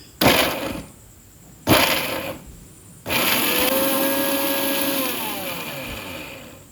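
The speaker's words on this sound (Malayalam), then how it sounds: "ഇനി നമുക്കൊരു ചെറിയ ജാറിൽ 2 പീസ് ബ്രെഡ് ഇട്ട് കൊടുത്ത് നന്നായിട്ടൊന്ന് പൊടിച്ചെടുക്കണം." A mixer grinder's small jar pulverises two slices of bread into crumbs: two short loud pulses of whirring motor, then a longer sustained grinding whine that lasts to the end.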